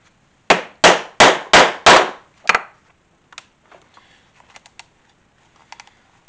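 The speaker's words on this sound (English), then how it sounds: "so I can get a nice straight cut here with my punch" A steel leather punch is hammered through the corner of a 1911 cowboy-style leather holster. Five sharp, loud blows land in a steady rhythm, then one more strike, followed by faint light taps and clicks.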